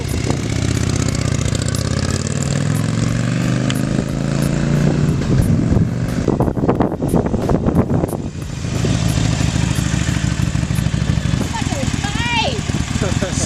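A 2020 Harley-Davidson Iron 883 motorcycle with a new exhaust idles and rumbles nearby, with a few throttle blips midway, under frequent talk from people close by.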